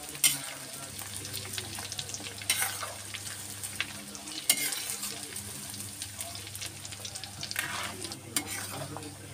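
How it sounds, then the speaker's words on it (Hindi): Chickpeas frying and being stirred in hot oil in a home kitchen for a chilli chana dish, a steady close sizzle with scraping stirs and occasional clinks of the pan, no talk. "अब हमारे छोले जो फ्राई हो चुके हैं"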